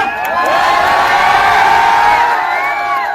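A dense crowd cheers and whoops loudly and continuously at an outdoor village welcome, with shouts layered over one another and no single voice standing out.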